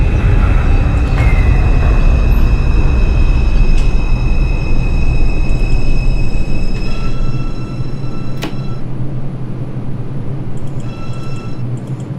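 Simulated R142 subway train on a 4 local run from Brooklyn toward Manhattan in OpenBVE, a loud steady rumble of wheels and motors with whining tones, easing slightly toward the end, no voices.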